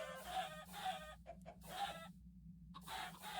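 Chickens cluck repeatedly in the Minecraft FTB OceanBlock video game, a series of close, fairly loud game clucks in bursts with short silent gaps and no talking.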